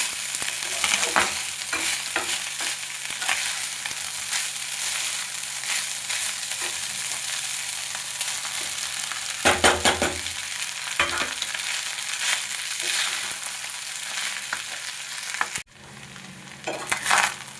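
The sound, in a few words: vegetables frying and being stirred in a pan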